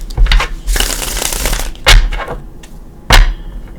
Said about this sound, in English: So let's give him a couple shuffles.